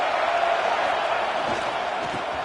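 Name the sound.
football stadium crowd cheering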